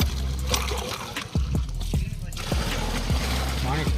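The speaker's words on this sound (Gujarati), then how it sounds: "પાણી નાખે છે ડોલમાં" Water splashes and gurgles into a container, a steady rushing pour with a few deeper glugs, heard close up while voices talk over it.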